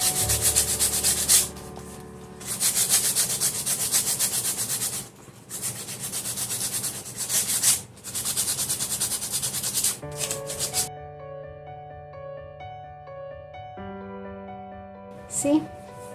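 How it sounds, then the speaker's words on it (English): Sandpaper rubbed back and forth over waxed, painted wood, a steady scratchy scraping in long strokes with short pauses, fairly close, under background music that carries on alone near the end. "when we rub it with sandpaper, it's going to give us a beautiful"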